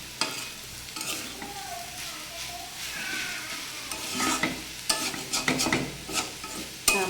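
Banana flower (mocha) fries gently in a pan as a utensil stirs it, producing soft sizzling with intermittent scraping strokes that grow louder and busier toward the end, close by with no voices.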